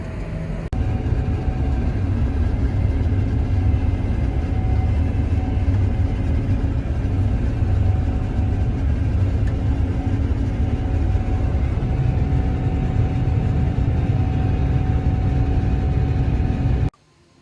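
Farm tractor towing equipment between fields during a Michigan corn harvest, a loud steady engine drone heard from inside the cab, continuous for the whole stretch before cutting off abruptly.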